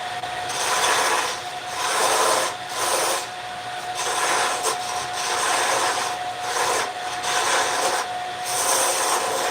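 Wood is rubbed with a hand tool in a workshop, long rasping strokes repeating in a steady rhythm, loud and close, with a faint constant hum in the background.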